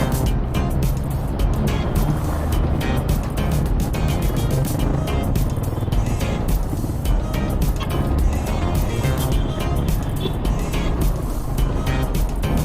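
City road traffic heard while riding a Suzuki Avenis scooter: dense, continuous engine and wind roar with passing vehicles, loud and steady throughout.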